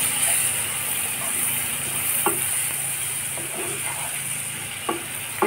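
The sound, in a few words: chopped tomatoes sizzling as they are stirred in the pan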